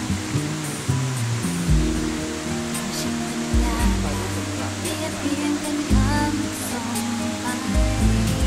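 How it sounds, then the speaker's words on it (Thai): Small unnamed forest waterfall on a Thai hiking trail, a steady broadband rush of falling water filling the scene, with faint voices and a rhythmic low drone beneath. "น้ำตกนี้คือน้ำตกแหล่งที่หนึ่งครับ ไม่มีชื่อ"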